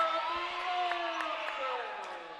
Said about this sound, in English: That chant got us back in the groove.